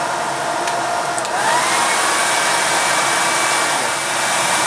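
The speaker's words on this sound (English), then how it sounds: "So I put the hairdryer up a notch." Loud, steady whoosh of a hair dryer blowing air into a blacksmith's forge, a constant roar that rises slightly partway through as the airflow is turned up, with faint whistling tones.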